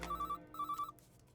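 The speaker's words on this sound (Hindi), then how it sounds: "ऑफिस पहुंचने के थोड़ी ही देर बाद उसका फोन आया।" An office telephone rings in two short trilling bursts, bright and close, with no voices over it.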